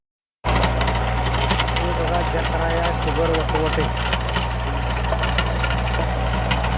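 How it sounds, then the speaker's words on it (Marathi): A tractor drives a rotavator across a farm plot, its engine giving a steady, loud drone with a low rumble throughout while a person talks over it. "एक ट्रॅक्टरनं रोटर मारत आहे. हे बघा, रोटर मारला."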